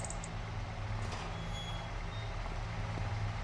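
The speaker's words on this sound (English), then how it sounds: "And I think I hear a truck outside," Low, rumbling engine of a large truck idling close by in a farming video game, with a steady drone and a few faint high beeps at the start.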